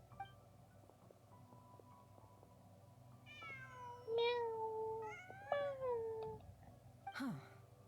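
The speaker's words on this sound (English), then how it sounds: "Just a cat." A cat meows in a video game, with a few plaintive, wavering meows rising and falling in the middle of the clip and a short higher cry near the end, over a quiet low background.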